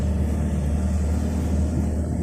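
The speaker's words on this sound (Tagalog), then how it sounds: "yan po yung narinig nyo po yung parang Armalite. Yan po yung 4x4 namin kumakana." A 4x4 vehicle with a manual transmission climbs a steep road, its engine giving a steady, close low rumble and drone throughout.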